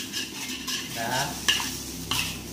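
Seafood fried rice being stir-fried on a home stove, with a continuous sizzle under repeated scraping and clinking of a metal spatula against the pan, plus two sharper knocks, close and fairly quiet with no talking.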